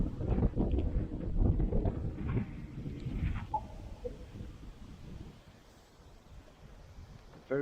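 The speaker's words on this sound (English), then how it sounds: "very, very windy." Strong gusts buffet the microphone outdoors on a run, heavy low rumbling bursts at first that ease into a quieter rushing, with faint indistinct voice fragments partway through.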